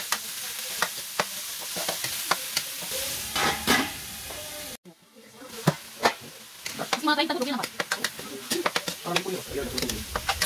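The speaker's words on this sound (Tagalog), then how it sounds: "Pag gisado na, idagdag na natin yung ating pork giniling." Ground pork sautéing in a pan with onion and garlic: a busy sizzle broken by rapid scraping and clattering stirs, with a brief drop in the middle before the frying and stirring pick up again.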